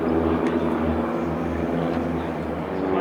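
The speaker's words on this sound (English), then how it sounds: "the team run in for their starburst break before each aircraft makes an individual pass prior to landing" A display team aircraft makes a low pass at the Sola Airshow in Norway, a loud steady engine roar with a droning tonal hum that holds for about three seconds.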